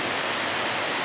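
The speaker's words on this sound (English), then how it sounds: "And you can hear that water rushing." Runoff water rushes beneath a concrete block in a lakeside park, a loud, steady, broadband roar that fills the clip without a break.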